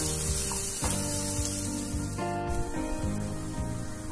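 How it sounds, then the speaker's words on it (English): Chopped onion sautés in oil with roasted spices, including green cardamom, for a vegetarian liver-style curry, giving a steady close sizzle that runs for the whole stretch beneath sustained musical tones. "Add 3/4 cup of chopped onion and saute well."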